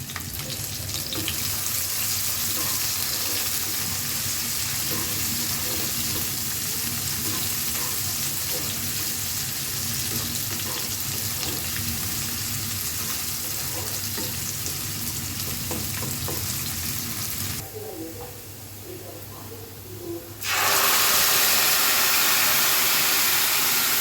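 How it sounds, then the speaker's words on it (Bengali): Chopped onion, green chili and garlic sizzle in hot oil in a pan, a steady frying hiss that drops off briefly near the end before a loud burst of sizzling returns. "যে বাগার দিয়ে দিয়েছি সুন্দর মতন বাগার দেওয়ার ফলে সুন্দর একটা স্মেল বেরোবে"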